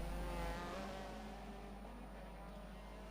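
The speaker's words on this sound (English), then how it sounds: "Spallin has made that pass in his very special OnlyFans car" Touring cars in a racing video game at a Brands Hatch event drone along as one steady, faint engine tone with shifting pitch, no talk over it.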